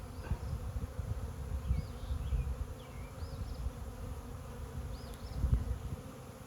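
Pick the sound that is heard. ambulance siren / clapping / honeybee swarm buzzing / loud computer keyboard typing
honeybee swarm buzzing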